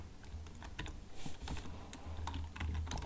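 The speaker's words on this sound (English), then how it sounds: "Type in the password for that user" A password typed on a computer keyboard, a quiet run of irregular key clicks close by with no voices.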